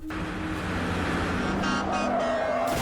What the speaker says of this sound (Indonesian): truk hitam yang melesat kencang ke arah mobil mereka